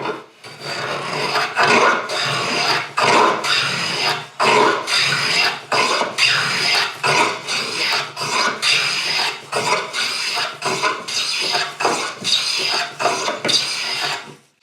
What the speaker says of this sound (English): Okay, so let's try planing.